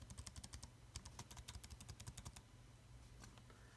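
Typing on a very thin full-size Mac keyboard: rapid, close, crisp keystrokes that come in bursts for about two and a half seconds and then stop, leaving only faint room noise.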